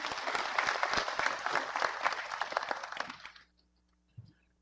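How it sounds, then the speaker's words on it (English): An audience at a public service launch event claps together in dense, steady applause for about three seconds, then it fades quickly into near silence with a single faint knock afterward. "Please give them a round of applause."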